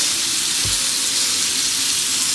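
Steak with rosemary sizzling steadily in a hot pan, a broad close hiss with a brief low thump as the meat settles in.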